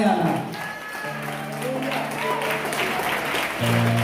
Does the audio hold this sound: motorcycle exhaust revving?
no